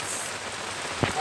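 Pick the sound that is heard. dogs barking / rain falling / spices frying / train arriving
rain falling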